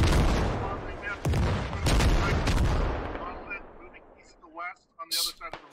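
Gunfire and booming blasts from the military shooter Squad, several sharp loud bursts in the first few seconds with rumbling decay, then quieter scattered shots and faint voices toward the end.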